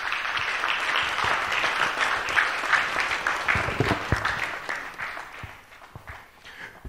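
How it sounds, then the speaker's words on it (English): Sustained audience applause at an agro-industry strategy launch event, dense steady clapping from a large crowd that holds loud throughout, then thins and fades slightly toward the end. "Please, let's give her another round of applause."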